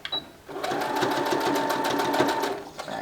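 A sewing machine runs a back stitch on fabric for a Valentine's heart pillow, a loud close rapid whirring burst lasting a couple of seconds after a few small clicks, with no talk over it.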